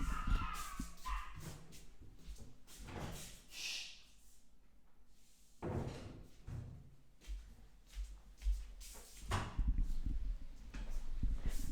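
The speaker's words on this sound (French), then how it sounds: "les chiens de ma fille sont en train d'aboyer" Small dogs barking and whining outdoors at a home, a series of sharp yips and whimpers at a moderate distance, irregular and intermittent over a quiet background.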